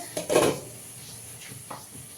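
A lid is set onto a cooking pan with one short metallic clank and a brief ring, followed by faint light knocks.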